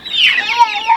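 Egg-laying hens being moved to pasture give close, bright clucks in a brief burst.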